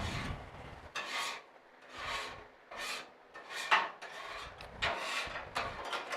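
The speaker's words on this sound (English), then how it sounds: "Scraping right along. I don't feel nothing on the grill." A metal scraper drags across a hibachi griddle in about eight rhythmic, rasping strokes, each a loud close-up scrape separated by brief pauses.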